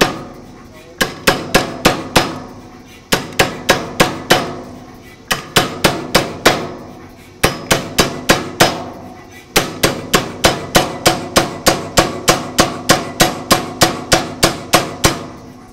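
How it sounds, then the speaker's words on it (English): An Anyang 88 power hammer forges a tenon in one heat, pounding out rapid loud bursts of metallic blows in repeated runs separated by short pauses, close and without talk. "The entire tenon in one heat is the most ridiculously time-saving."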